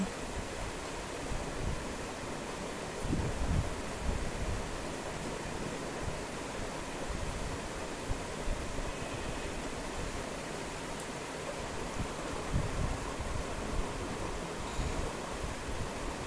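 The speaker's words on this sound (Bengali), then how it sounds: "মাছগুলো ভেজে নিচ্ছি।" Rohu fish rubbed with salt and turmeric frying in a pan makes a continuous broad, dense sizzling hiss at a moderate, even level with no voices over it.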